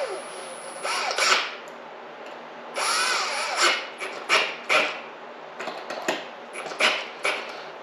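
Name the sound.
power drill used on a Poulin chainsaw carburetor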